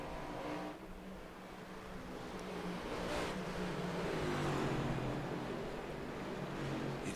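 Stock-car engines in the iRacing NextGen Cup Series at Phoenix Raceway drone steadily as the cars coast through turns one and two, a continuous mid-level roar with a slight pitch sweep, no voices over it.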